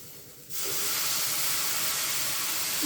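Tamarind water poured into a hot cooking pan, bursting at once into a loud, steady steam hiss and sizzle that holds close and constant after a brief quiet start, with no talking.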